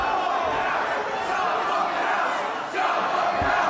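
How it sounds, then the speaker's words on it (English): Boxing arena crowd roaring and cheering behind a fighter, a dense, loud, continuous wall of voices with a slight dip and then a fresh surge near the end. "Listen to the crowd. They're getting behind him."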